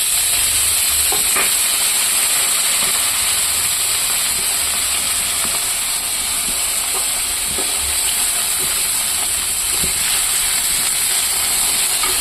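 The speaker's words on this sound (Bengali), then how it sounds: "পটলটা ভাজা হোক" Pointed gourd (potol) pieces fry with onions in a pan, a loud, constant sizzle and hiss of oil and steam, with occasional faint clinks of stirring and no speech.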